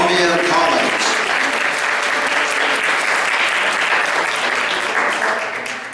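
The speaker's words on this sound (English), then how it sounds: "So let's give an applause and a shepherd's welcome to Columbia College." Warm audience applause greets a visiting college group before a Vivaldi violin concerto performance, a full, loud wash of clapping with some voices mixed in that holds steady for six seconds.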